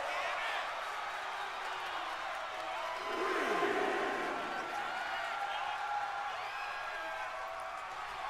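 A wrestling crowd roars and cheers steadily in the background, swelling briefly midway, while a commentator talks over the noise.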